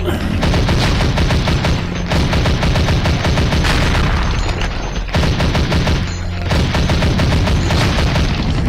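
Rapid, loud gunfire in the zombie shooter game Zombie Age 2, dense bursts of repeated shots in a fast steady rhythm, nearly continuous with brief pauses.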